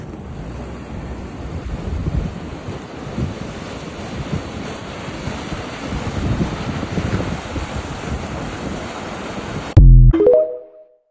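Floodwater rushing through an opened sluice gate, a steady loud roar of churning water with wind buffeting the microphone, ending in a sharp knock and brief ringing clatter.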